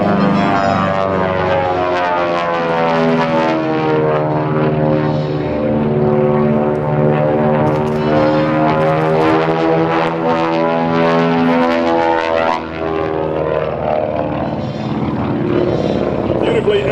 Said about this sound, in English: as he brings this venerable airplane, noted mostly for hauling high-powered executives and a lot of freight